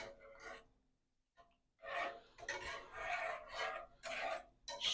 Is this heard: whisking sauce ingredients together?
yes